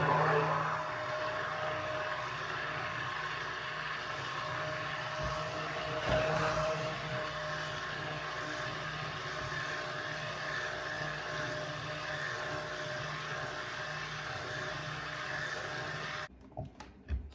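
A handheld motor mixer stirs olive oil soap batter, a steady, continuous whirring drone that holds level throughout before cutting off near the end.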